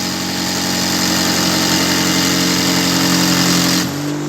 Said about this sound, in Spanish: Ahí la piedra y acá le voy dando con el taladro.